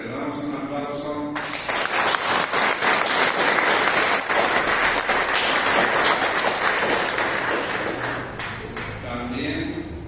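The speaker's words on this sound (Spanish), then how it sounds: "Le damos un aplauso." A church congregation at Sunday Mass breaks into loud, sustained applause lasting several seconds, close and dense, with someone speaking just before and after the clapping.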